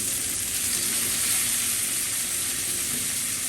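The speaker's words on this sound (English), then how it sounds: "Let's go ahead and flip this bacon over." Bacon sizzling on a flat-top griddle beside homemade burgers, a dense, continuous crackling hiss that holds steady and loud throughout with no talking.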